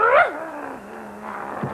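A voice imitates a dog with a high, rising yelp that slides down into a drawn-out low growl, then a short final yip, heard alone and close.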